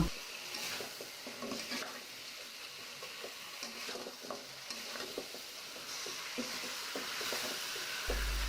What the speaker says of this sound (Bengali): পরিষ্কার করে রাখা মাথাগুলো এখন নাড়াচাড়া করে মিশিয়ে নেব